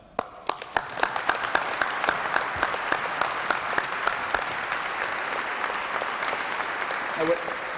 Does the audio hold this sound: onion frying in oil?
no